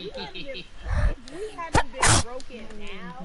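A single sharp sneeze bursts out in the middle of ongoing speech, loud and close, with talking continuing before and after it.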